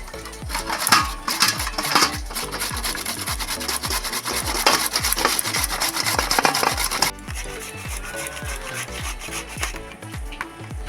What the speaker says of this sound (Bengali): আমি এইভাবে এটাকে ছিলারে করে ছিলে নিচ্ছি।